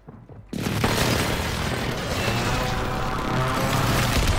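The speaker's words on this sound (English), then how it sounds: "Enemy rotation airstrikes." Airstrike explosions in a video game, starting with a sudden heavy boom and then a sustained loud rumble of blasts and debris that continues unbroken to the end.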